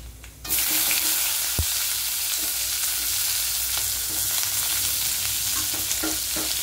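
Onions drop into hot oil already holding mustard seeds, chana dal and fennel, bursting into a loud, dense, close sizzle that continues steadily with a brief clatter early on.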